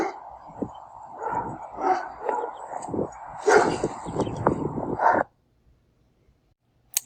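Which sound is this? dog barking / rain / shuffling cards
dog barking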